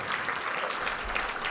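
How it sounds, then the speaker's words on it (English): Audience at a veteran appreciation dinner applauds to honor veterans, a sustained, even burst of clapping from a crowd in a hall, heard alone without speech. "A round of applause."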